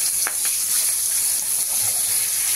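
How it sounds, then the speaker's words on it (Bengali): A bay leaf sizzles in hot oil in a wok as mutton curry begins, a steady, fairly loud crackling hiss that continues evenly throughout without talk. "দিয়ে দিচ্ছি তেজপাতাটা"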